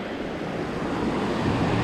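Cascade Creek in Grand Teton National Park rushes in a steady, broad wash of flowing water, loud and unbroken, with some wind noise mixed in.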